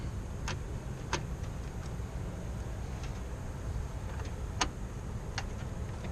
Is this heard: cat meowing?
no